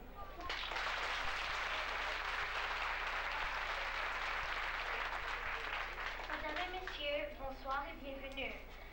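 An audience applauds at a Greek school's 25 March national day celebration held in Laval, Quebec, in 1994. The clapping is sustained and moderately distant, then fades as children's voices start to come through near the end.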